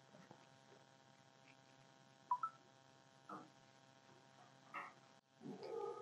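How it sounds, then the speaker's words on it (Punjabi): A telephone number is dialed: a few faint, short beeps sound one at a time over a quiet room hum, with no talking. "ਫੋਨ ਲਾਉਂਦੀ ਹਾਂ"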